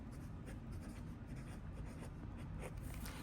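Fountain pen with a medium nib, a Benu Euphoria, scratching softly across paper, a faint continuous rubbing with small strokes up close and no talk.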